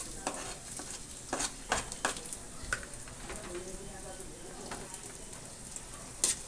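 Garlic fries in smoking-hot oil, a faint sizzle broken by scraping stirs and sharp crackles, with some talk in the background.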